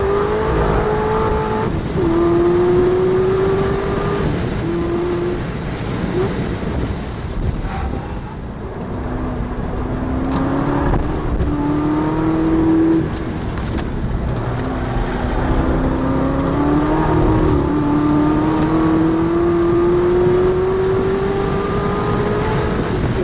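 A Chevrolet Corvette ZR1 on Michelin Pilot Sport Cup tires laps the Nürburgring in 2012, its engine loud and close, repeatedly rising through the revs, dropping back at shifts and braking, then pulling hard again.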